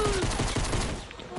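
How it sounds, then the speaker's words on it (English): Rapid gunfire rattles in a shooter video game, a quick burst of overlapping shots that are loud and close, with a voice faintly underneath. "Why are you shooting at him?"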